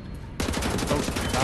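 Sustained automatic gunfire in the video game Wolfenstein: The New Order, a dense, loud fusillade of rapid shots that bursts in suddenly after a quiet moment and keeps going without a break.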